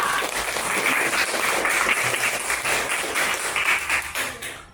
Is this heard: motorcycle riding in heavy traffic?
no